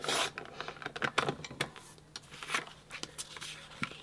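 Paper for a scrapbook pocket page is trimmed in short scraping, rasping strokes, quiet and close, with small pauses between cuts.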